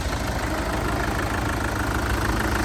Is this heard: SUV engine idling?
yes